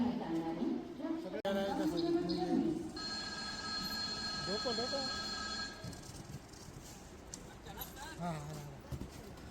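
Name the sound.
train arriving at station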